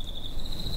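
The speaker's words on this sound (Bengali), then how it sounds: "জঙ্গল থেকে ঝিঝি পোকার ডাক ভেসে আসছে অনবরত।" Crickets in a jungle at night keep up a single unbroken high chirping trill, faint against a low background hush.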